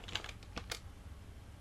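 Someone types the word yes on a computer keyboard: a few quiet, quick key clicks close by, then faint room noise.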